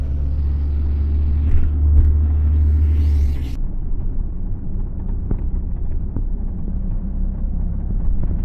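A van engine rumbles steadily up close, a heavy low drone that eases slightly partway through, with faint clicks and no voices.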